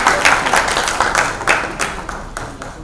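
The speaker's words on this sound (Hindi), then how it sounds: "राखी जी को जोरदार ताली" An audience at a live comedy stage show claps in a dense, loud burst of applause that stays even throughout, with individual claps standing out in quick succession.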